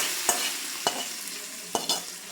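Tempering spices spluttering in hot oil for a drumstick curry, a soft sizzling bed broken by four sharp pops at uneven intervals, close and fairly quiet.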